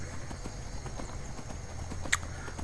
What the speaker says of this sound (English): I can still ride my horse perfectly fine